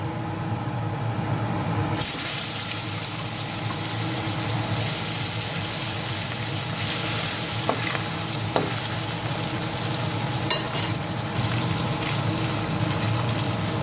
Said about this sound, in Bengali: এই তেলের মধ্যে আমি মাছগুলো ভেজে নেব।